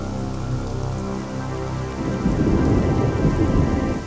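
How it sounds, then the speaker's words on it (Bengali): Rain begins to fall as a dense, steady roar with low rumbling underneath, growing heavier and rougher after about two seconds and staying loud and close throughout, with no voices. "মুখের কথা শেষ হতে না হতেই বৃষ্টি শুরু হয়ে গেল।"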